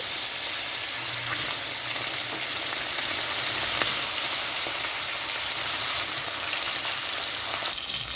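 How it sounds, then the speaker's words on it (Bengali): Bata fish frying in hot white oil, a loud, dense sizzle that crackles continuously and close-up for the whole stretch, with no talking. "এখানে তেলটা গরম হয়ে গেছে মাছগুলো ভাজার জন্য দিয়ে দিচ্ছি"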